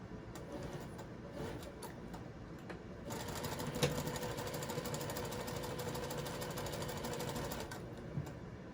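Sewing machine stitching a cross body bag, a steady close motor whir with rapid needle chatter that grows louder and denser after a few seconds and runs continuously to the end, with no talking.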